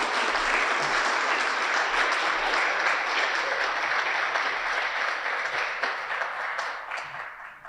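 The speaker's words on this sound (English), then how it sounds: "Please join me in a round of applause to congratulate and welcome the members." Sustained audience applause fills the hall at a humanities honor society induction ceremony, a dense steady wash of many hands clapping that fades slightly near the end.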